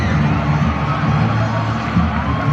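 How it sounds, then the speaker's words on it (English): A stadium crowd roars at a 2019 SEA Games men's volleyball semifinal between the Philippines and Thailand, a dense, steady wall of cheering and shouting that holds loud and unbroken throughout. "And the crowd roaring"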